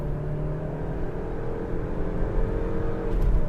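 A Maruti Victoris accelerating hard from a standstill: a steady low engine drone and whir building gradually in loudness, heard from inside the car with no talking.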